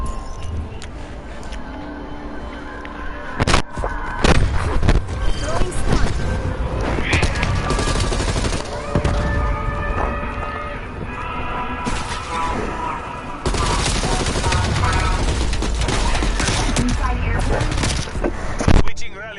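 Rapid gunfire bursts from a Call of Duty zombies match, dense and continuous across the whole stretch, with repeated shots and crashes layered over game music and effects.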